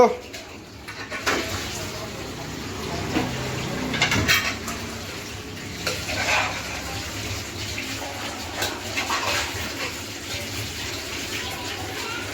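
Cooking in a handi pot for onion and poppy seed curry: a metal spoon scrapes and clinks against the pot while frying and stirring, with irregular clatter and watery splashes and a voice speaking over it.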